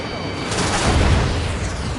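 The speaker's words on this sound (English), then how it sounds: "An explosion inside!" A deep, rumbling blast from the Ace Combat 7 flight combat game swells into a loud, sustained roar for about two seconds.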